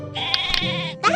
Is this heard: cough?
no